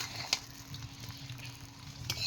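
Jujubes (kul) stirred and fried in a pan for a sweet and sour pickle, a faint, soft sizzle with light scraping and a couple of brief clicks.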